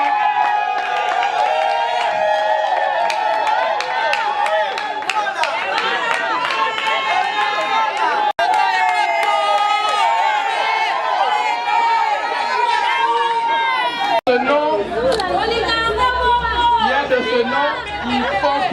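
A crowd at a religious wedding ceremony cheering and acclaiming, dense overlapping voices and shouts with singing-like calls, loud and sustained throughout.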